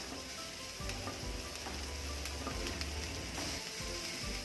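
Steady crackling sizzle of hot oil frying spices, onions, curry leaves and green chilies, with scattered sharp pops, continuous and close, no voices.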